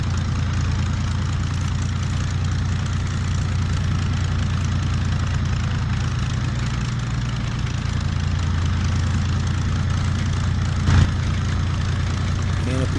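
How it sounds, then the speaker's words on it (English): Piston engine of a P-51D Mustang in a WW2 flight game throttling up for taxi: a steady, loud low drone that holds throughout, with a brief sharper burst near the end and a voice talking over it. "we're going to go ahead and taxi now. So we're going to throttle up."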